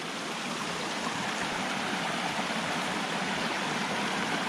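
A wilderness creek flowing steadily on a trail, a continuous broadband rush of water close by with no voices over it.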